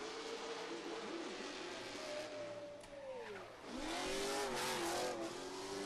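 A drift car's engine revs hard during a competition lap at the Oman International Drift Championship 2025, a sustained wailing roar that rises and falls in pitch as the car passes through a corner, heard from a distance.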